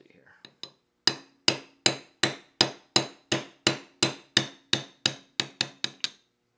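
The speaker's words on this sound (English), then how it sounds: "you don't need a very big hammer, small literal mallet, and just tap that pin" Small mallet tapping a pin out of a Sig pistol extractor, about fourteen crisp, evenly spaced metallic knocks close up that speed up slightly toward the end, after a couple of faint light taps.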